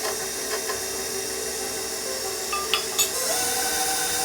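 An electric mixer on low speed churns white cake mix, flour and sugar into cupcake batter with a steady whirring hiss, joined near the end by a couple of faint clinks, with no talking.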